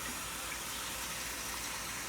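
Water gushes steadily into a container holding a few drops of dish detergent, a continuous, fairly faint rushing fill with no pauses.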